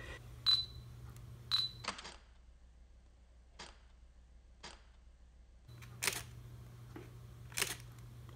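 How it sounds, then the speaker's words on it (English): A few short electronic autofocus confirmation beeps and soft camera clicks from a Fuji X-T20, spaced apart with a quiet gap in the middle, close and faint. "So there, I got a beep"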